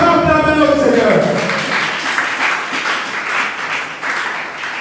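A church congregation applauds loudly in praise of the Lord, a sustained broadband wash of clapping that follows a shouted line from the preacher and continues steadily to the end.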